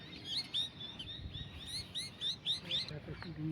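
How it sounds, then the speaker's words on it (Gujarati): Repeated high chirps and squawks from parrots in a tree near a river, moderately close, over a low rumbling background with faint murmuring. "અત્યારે આમાં પોપટ બેઠા છે"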